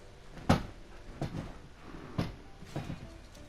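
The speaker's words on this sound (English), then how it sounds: "the clicking noise, it's my chair" A creaking chair gives off four sharp, fairly close clicks at irregular intervals, each a brief snap with a little creak, heard alone with no talk.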